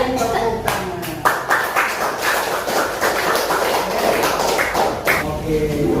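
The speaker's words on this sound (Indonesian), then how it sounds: "kita sering tepuk tangan." Students in a classroom clap their hands as a group in uneven bursts, near and moderately loud, with speech over and between the claps.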